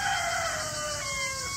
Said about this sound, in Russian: И петух еще орет.